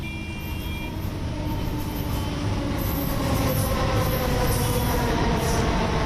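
A Delhi metro train runs steadily with a continuous rumble of wheels on rail, faint squealing and a soft rhythmic clatter, loud and close throughout with no talk.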